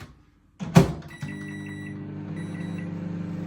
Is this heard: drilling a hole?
no